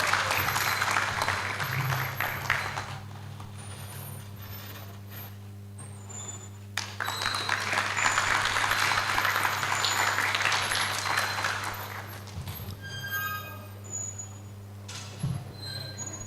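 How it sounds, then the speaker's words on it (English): Hall audience at the Tanzania Health Summit in Jozan Hall applauds an award recipient in two separate swells of clapping, the first fading after a few seconds and the second longer, over a steady low electrical hum. "So you can give a round of applause as they receive it."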